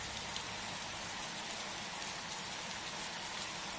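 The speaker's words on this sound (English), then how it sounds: "The leaves are falling, and so is the rain." Steady rain falling in the Pocoyo Playset game, a dense continuous hiss of drops spread evenly across the whole stretch with no speech.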